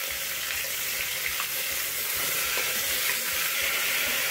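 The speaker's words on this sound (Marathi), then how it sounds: "हाय फ्लेमवरती आपण 2-3 मिनिटं तेलावरती सॉटे करून घेऊया." Ginger and garlic sautéing in oil over a high flame for tomato soup, a steady loud sizzle and frying hiss with faint stirring, close and continuous, with no talk.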